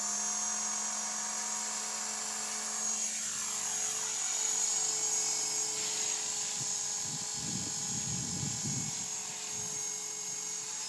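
Radio-controlled helicopter flies with its blades spinning, giving a steady high whine and buzzing rotor drone that stays loud throughout, with some deeper throbbing pulses toward the end and no talk.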